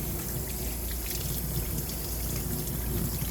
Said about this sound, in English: All right, one more rinse.